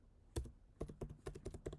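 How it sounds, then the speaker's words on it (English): Crisp keystrokes on a computer keyboard tap out a short, uneven run of about a dozen clicks as shell-script arguments are entered, quiet and close with no talk. "The first thing is I am typing age,"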